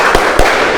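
A class of students claps in unison in the rhythmic 'tepuk semangat' chant, two sharp, loud clap hits close together over a busy room background.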